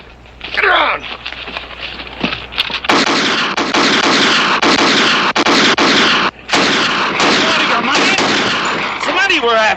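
Gunfire in a Western TV show shootout: rapid cracking shots in bursts and volleys, loud and close, running nearly continuously with brief gaps, and a shouted voice at the start.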